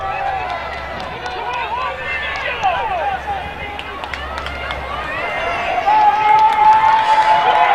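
A track and field conference championship meet, with the Holland team cheering on their runner from the stands: a broad crowd roar and shouting that swells toward the end, heard from a distance, with a commentator talking over it.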